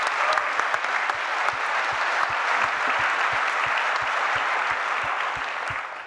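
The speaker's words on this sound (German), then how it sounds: "Einen besonderen Danke. Applaus wert." Audience applause for volunteers at a panel discussion during a city forum, a full, even wash of many hands clapping close and loud, holding steady throughout.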